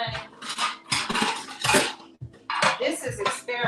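Dishes and cutlery clatter in a sink, dense overlapping clinks and scrapes in several close, loud bursts with brief pauses.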